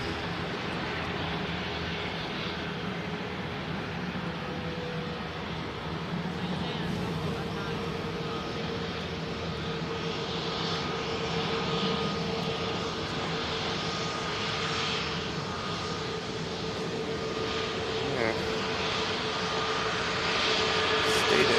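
An airliner near Manchester Airport produces a continuous broad engine roar with a steady drone that holds at a moderate distance throughout, slightly swelling toward the end.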